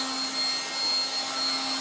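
A 1960s Dateline DLMD vintage hairdryer with a single heat and single speed runs with a steady, close, whooshing blower hum and a constant low motor tone.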